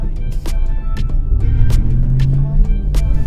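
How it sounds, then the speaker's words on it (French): A car engine runs steadily with a low rumble in Accra, Ghana, interrupted by several short sharp clicks or taps. "J'entends le bruit du moteur."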